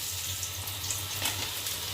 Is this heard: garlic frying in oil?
yes